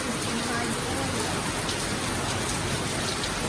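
Heavy rain pours down outdoors onto plants, a loud, even hiss of drops on surfaces filling the whole stretch without pause.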